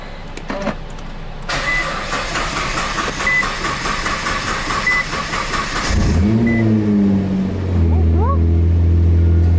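A Nissan GTR with a Visconti Stage 1 fuel basket upgrade starts and idles, then its engine rises in pitch as it pulls away and revs, loud and close, with a few beeps and a voice speaking over it.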